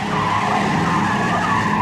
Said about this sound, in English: he goes too fast and badly oversteers